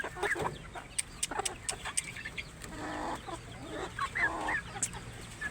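Pet chickens kept with young chicks cluck and squawk close by in repeated short calls, some rising into louder cackles, with no talking.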